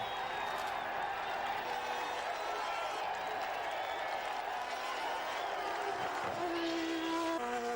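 Crowd at Silverstone during the 1989 British Grand Prix, a broad sustained roar of cheering and applause from a large distant audience, steady throughout with faint engine noise beneath.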